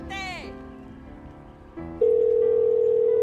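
A phone in the video game GTA 5 sounds a synthetic ringing tone that sweeps and cuts off, then a short burst and a steady loud sustained tone, close and clear.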